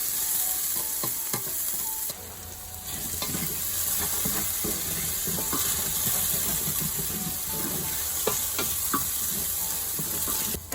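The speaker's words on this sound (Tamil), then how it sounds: "பொட்டேட்டோஸ் ஆட் பண்ணி நல்லா சாட்டே பண்ணிக்கலாம். இன்னும் ஆனியன்ஸ் ஆட் பண்ணிக்கலாம்." Potatoes and onions sautéing in oil in a pan, a steady loud sizzle and frying hiss throughout with repeated scraping stirs of a spatula, no voices.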